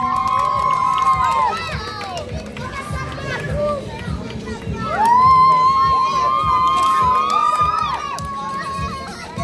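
A crowd cheers and shouts for runners crossing the finish line of a 10km race at the Toulouse half marathon, with children's voices and loud whoops rising mid-clip, and a speaker talking over the noise.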